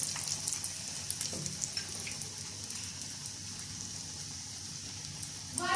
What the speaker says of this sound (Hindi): अब हम इसको फ्राई करेंगे